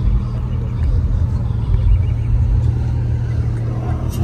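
A green 1994 Porsche idles at a car meet, its engine giving a steady, loud low rumble close by with no clear revving, continuous and fairly even throughout.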